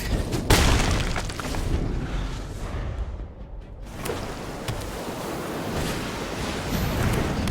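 A Lightning Bolt spell effect in the card game MTG Arena hits with a sharp crack followed by a loud booming, roaring wash that dips briefly and then surges again.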